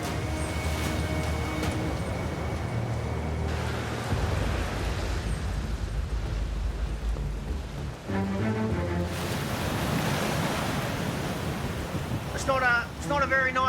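Heavy seas and gusting wind batter a lobster boat hauling its last pots on a rough night, a dense, continuous roar of surf and wind noise with some mechanical rumble beneath.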